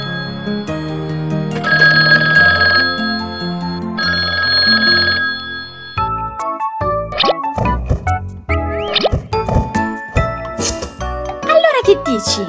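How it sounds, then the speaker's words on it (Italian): A telephone bell in an Italian children's cartoon rings in two long, loud jangling bursts, then gives way to chirpy cartoon effects and a voice. "Telefono."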